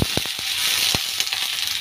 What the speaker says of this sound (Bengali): কারি পাতাটা দিয়ে আমি অনেকটাই ভালো করে ভেজে নিয়েছি। এখন দিয়ে দেব চিড়েটা।